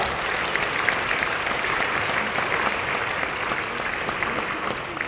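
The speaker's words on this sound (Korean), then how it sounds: "박수해 주시기 바랍니다." At a Korean church denomination ceremony, an audience gives steady, dense applause for the introduced guests, an even wash of clapping lasting the whole stretch with no talk over it.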